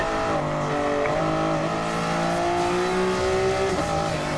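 A race car driven in Gran Turismo, its engine revving up and down through the gears in a loud, close, continuous tone, with a faint tire squeal.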